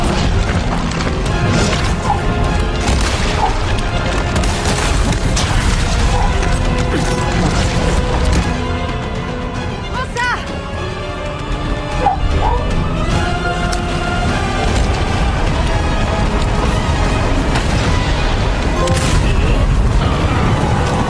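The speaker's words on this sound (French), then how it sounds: "Le boss explose dans une scène spectaculaire." A boss explodes in a Resident Evil video game cutscene: a dense, loud, sustained wall of crashing, rumbling and mechanical clattering with booming hits that barely lets up for about twenty seconds.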